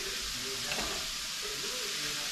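Cauliflower rice sizzles steadily in an oiled frying pan while it is stirred, a continuous close frying hiss with faint scraping and no talk.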